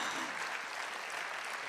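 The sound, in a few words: audience applause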